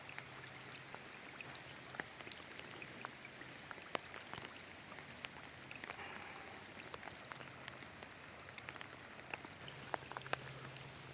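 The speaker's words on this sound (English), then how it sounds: "It's raining a little bit." Light rain patters steadily over a lakeside campsite, a soft continuous hiss dotted with scattered close drops, faint and even throughout.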